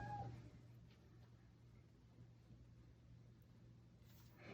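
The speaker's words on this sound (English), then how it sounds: "If you hear my cat going crazy, he's in the window and he's still a kitten" Young kitten at a window meowing at lizards outside, faint and brief cries at the start and end over a quiet indoor hum.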